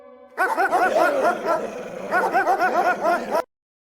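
Several dogs bark in a rapid, overlapping chorus of yips and bow-wows, loud and close, in two sustained bursts with a brief dip between them.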